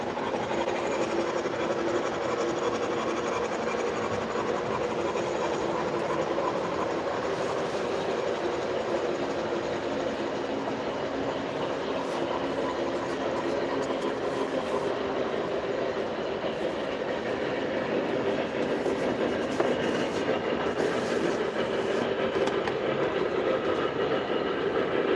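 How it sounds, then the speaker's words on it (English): An MTH Premier Mercury model train with a custom sound set runs around an outside loop, giving a steady rolling clatter and engine hum that stays even and close throughout. "on the outside loop we have the MTH Premier Mr. Muffin's Custom Run Mercury with a custom sound set."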